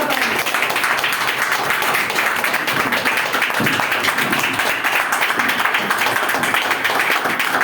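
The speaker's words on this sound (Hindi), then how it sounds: "जोरदार तालियां चाहूंगा।" Continuous loud applause from an audience at an indoor training meeting, dense and even throughout with no pauses.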